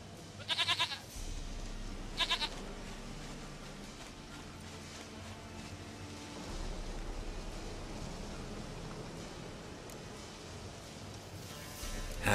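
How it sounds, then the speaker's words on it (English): A goat in The Witcher 3 bleats in two short, wavering calls near the start, then soft hoof clip-clop and outdoor ambience fill the rest, with a faint final bleat-like burst at the end. "Goat of mine, dearest, sweetest goat."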